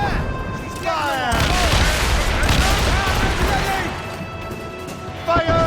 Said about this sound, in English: Fire! Mortars in!